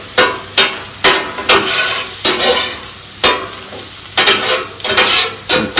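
A spatula stirs sizzling Philly steak and cheese sandwich filling in a hot pan, with loud, close scraping strokes repeating roughly every half second over a constant frying hiss.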